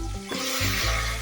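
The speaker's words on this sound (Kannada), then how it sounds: "ಚೆನ್ನಾಗಿ ಫ್ರೈ ಮಾಡ್ಕೊಳ್ಳೋಣ ಟೊಮೊಟೊ ಮೆತ್ತಗಾಗೋವರೆಗೂ" Tomatoes frying in a pan for dhal sambar, with onions already added, give a steady close sizzle with brief stirring scrapes and no talk.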